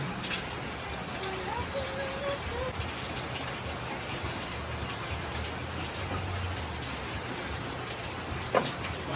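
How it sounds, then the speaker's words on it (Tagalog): Steady rain falls on a farm, a soft continuous hiss of drops on surfaces with faint background sounds and one brief knock near the end. "Habang maulan ang panahon."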